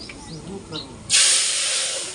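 A tempering for buttermilk kadhi hits a pot in a village kitchen, erupting into a sudden, loud, sustained sizzle midway after a quieter stretch with faint background voice.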